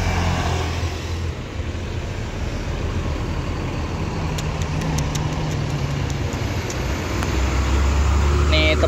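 Steady loud rumble of a new Putra Rafflesia bus engine with road and wind noise, the bus idling or passing nearby.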